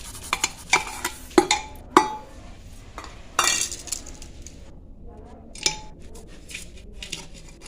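A bowl of sand is poured and spread around the inside of a pressure cooker, giving a series of close gritty scrapes and metallic clinks in irregular bursts.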